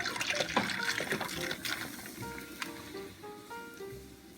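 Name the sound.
pouring beer into pork brine with ice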